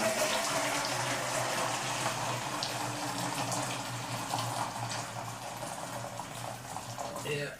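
Boiling hot water pours in a steady, continuous splashing gush while an Optimus 111 camping stove is cleaned, fairly faint and close, with no talk.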